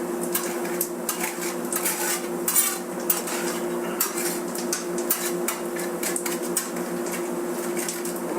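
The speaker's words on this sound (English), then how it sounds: "The more you move them, the more you stir them, even when they're almost done, the fluffier they're going to get." A spatula clatters and scrapes steadily against a metal grill top while eggs are scrambled, a rapid run of close, sharp clicks and taps over a constant background hum, with no voices.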